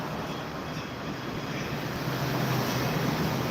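Wind blows steadily outdoors and rumbles against the microphone as a broad, constant rush, fairly loud, with no talking.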